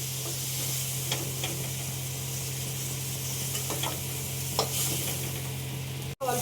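Shrimp frying lightly in oil in a pan, a steady close sizzle with occasional louder pops and a low hum underneath.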